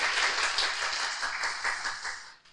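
A church congregation applauding during a Korean worship service, a brisk wash of many hands clapping at once that holds steady, then thins out at the end.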